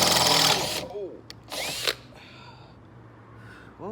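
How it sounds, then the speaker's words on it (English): A power drill whirs briefly into car body metal, stops, then spins up again in a second short burst, followed by quieter background noise and a faint rising whine. "I actually had to start with a small bit and work my way up until the drill actually punctured through"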